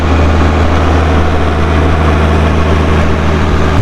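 Tractor engine running, heard from inside the cab as a loud, continuous low rumble with steady droning tones, close and unbroken.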